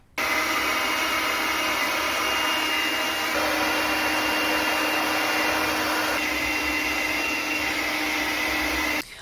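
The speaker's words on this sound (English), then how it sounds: "with a round brush and a hairdryer." A hair dryer used with a round brush blows with a steady, loud whooshing hum that shifts slightly in pitch partway through, then cuts off abruptly at the end.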